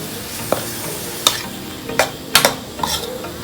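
Beef and pickled bamboo shoots stir-fried in a pan outdoors, with a steady low sizzle broken by several sharp scraping strokes of a spatula against the pan, close and clear with no talking.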